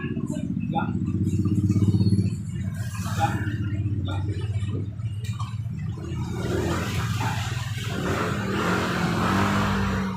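Yamaha Mio Soul 125 scooter engine idling steadily, overdue for an oil change, a low continuous hum under people talking nearby.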